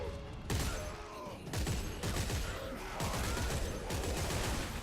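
Heavy bursts of gunfire from a weapon in the video game Dead Space 3, loud rapid volleys in several separate clusters with brief pauses between them.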